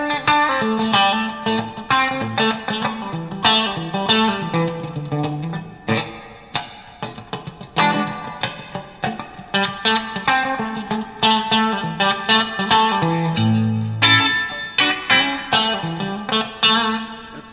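Dense effected guitar or instrument playing drenched in lush reverb from a Meris MercuryX pedal, continuous and loud with rhythmic plucked attacks and long washy tails throughout, no voices.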